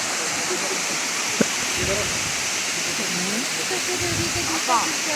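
A steady, rushing roar of Elephant Falls near Shillong, set in forest, fills the whole stretch, with faint murmuring voices now and then beneath it.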